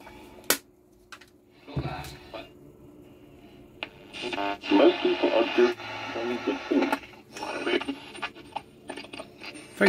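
A Philips pocket radio tuned to the bottom of the long wave band, giving faint crackly, hissy reception with fading bursts of program audio and sharp clicks, the signal swelling and dropping irregularly.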